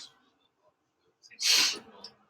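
A single sudden sneeze bursts out loud and close during a quiet trigonometry lesson, a sharp noisy blast lasting about half a second, with faint breathing and rustle before and after.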